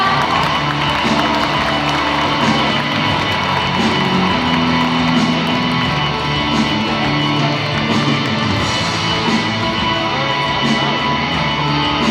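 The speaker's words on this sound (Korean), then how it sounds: "박수 부탁드립니다." Wedding hall audience clapping and cheering steadily, a dense continuous wash of applause with scattered whoops and voices throughout.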